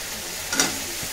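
Potatoes and tomatoes go into hot spiced oil in a home kitchen, a soft steady sizzle with a brief louder crackle as they hit the pan, no talking over it.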